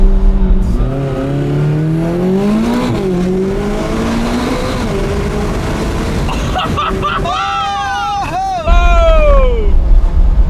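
A McLaren 570GT on a volcano road accelerates hard, its engine note sweeping up through the gears in loud rising whines, then surging into a high-pitched roar with shifts near the end; people talk and exclaim over it.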